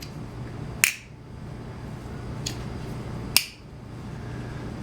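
Two sharp metallic clicks of a Spyderco Police stainless steel folding knife blade closing, about two and a half seconds apart, with a fainter click between them, over a quiet room hum.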